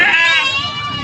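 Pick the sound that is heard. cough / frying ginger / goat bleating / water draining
goat bleating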